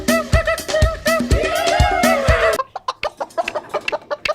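A chicken clucks and squawks loudly and close by in a comedy skit, a busy run of calls for a couple of seconds followed by a quicker string of softer clucks.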